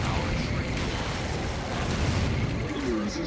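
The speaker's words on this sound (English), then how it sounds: "Slow explosion as well, knocking down some allies and some friends alike" A slow, heavy explosion rumbles through a Dawn of War battle among Tyranids, Chaos Space Marines and Dark Angels, a dense, sustained roar under a narrating voice.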